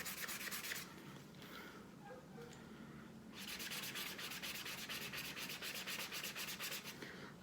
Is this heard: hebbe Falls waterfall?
no